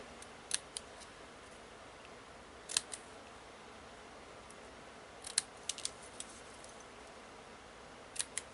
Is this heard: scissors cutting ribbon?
yes